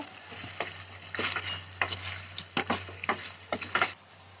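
Chicken and potato curry is stirred in a pan, with quick irregular scrapes and taps of a spoon over a soft background sizzle, close and unaccompanied by talk.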